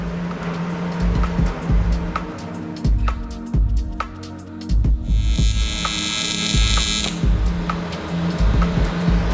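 Tacking aluminum with an AC TIG torch and no filler wire: a buzzing, hissing arc lasts about two seconds midway, set among scattered clicks and a steady low hum.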